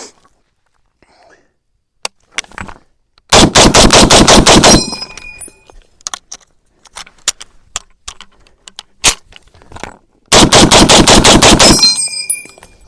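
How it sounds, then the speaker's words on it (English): An M1 Garand rifle is emptied in two fast, loud bursts of gunfire, each a tight string of sharp cracks, separated by quieter clicks and handling noises from the rifle. "I'm going to attempt to reload with this rifle. So I'm gonna do a mag dump"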